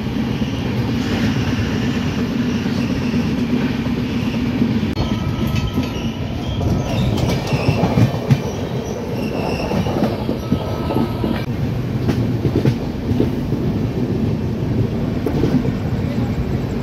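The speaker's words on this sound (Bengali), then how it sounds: "জলপাইগুড়ি রোড থেকে ট্রেন কিন্তু এখন কৃষ্ণনগর প্ল্যাটফর্মে ঢুকে গেছে" A Sealdah–Jalpaiguri Road Humsafar train rolls into Krishnanagar City Junction platform, with loud continuous rumbling, clattering wheels and occasional squeals and clanks from close by.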